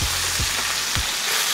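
Pieces of oxtail sear in a hot pan with a loud, continuous sizzle and spatter, broken by a few soft low thumps as the meat is shifted or stirred.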